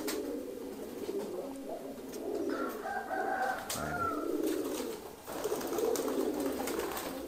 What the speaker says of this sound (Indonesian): Dulu merpati ini dilatih sama Mas Nanang ya